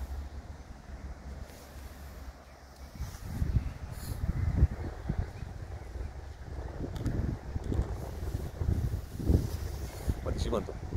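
Gusts of wind buffet the microphone in low rumbling bursts, with people talking nearby.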